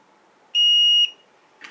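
A ToolKitRC M6AC multi charger gives a single clear, high-pitched electronic beep lasting about half a second to signal a finished fast charge, close and loud in a quiet room, followed by a faint short click.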